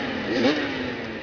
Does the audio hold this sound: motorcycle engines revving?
yes